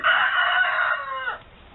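A single broody hen gives a long, drawn-out squawking call, loud and close, trailing off near the end with no other sounds around it.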